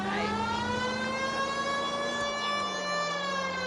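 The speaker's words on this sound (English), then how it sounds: "I'm going to turn my sirens on here, because I just don't want to deal with traffic" A wailing police car siren in a PS4 open-world driving game, loud and steady, its tone sliding slowly up and down across the whole stretch with no talking over it.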